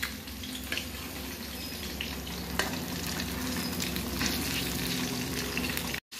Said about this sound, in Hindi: ভজা প্ৰায় শেষ হৈ গৈছে